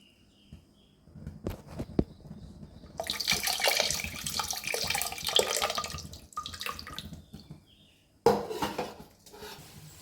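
Water pours into a pot of tamarind and toor dal rasam, with a steady splashing flow, clinks of the vessel and utensils before and after, close by in a quiet kitchen.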